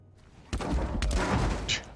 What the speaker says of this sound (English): Explosions are still going.